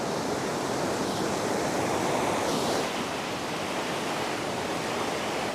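A hill river near Kolakham and Lava in Kalimpong rushes with a strong current, giving a loud, constant broadband roar of water that stays even throughout, with no voices.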